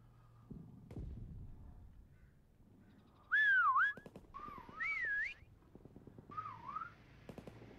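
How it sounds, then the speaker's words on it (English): A prop in a WW2 prop hunt video game gives off three short, clear whistled melodic phrases of wavering pitch, set between dull thuds and game noise. "it makes you whistle, too"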